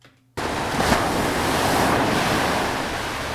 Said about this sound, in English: I found this one of the crashing waves worked really, really well as the waves crashed.